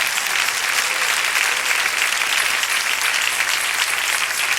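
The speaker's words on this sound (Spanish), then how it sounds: "Denle ese aplauso al Señor." Steady, dense applause from a church congregation at an evangelical service, a loud continuous wash of clapping with no talk over it, holding level for several seconds.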